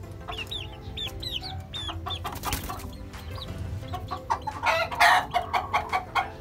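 Boston Sweater gamefowl chicks about two months old cluck and cheep in repeated bursts, with a rooster crowing nearby and rustling in the background; no one speaks.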